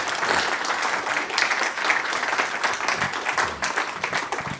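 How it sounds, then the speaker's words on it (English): Lecture audience applauding after a talk, a full burst of many hands clapping close and loud, sustained throughout with slight swells in intensity. "Please give a round of applause."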